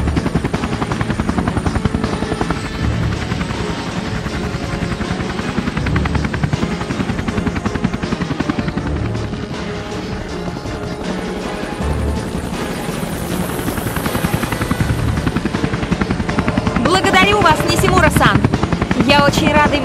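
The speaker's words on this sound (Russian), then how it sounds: "Вертолет Нисимуры ждет тебя снаружи." Nishimura's helicopter in Tomb Raider Legend's Japan level thrums loudly and continuously for about twenty seconds. Its rotor chop is close and steady, and voices occasionally speak over it.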